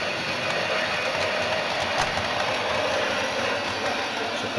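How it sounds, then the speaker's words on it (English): A model railway train moving off along its track, a steady continuous rumble of motor and wheels heard close and fairly loud throughout, with no talking. "After a short delay the train should move off."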